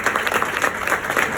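A church congregation claps steadily through a sermon, with dense, even applause filling the whole short moment and no voices heard.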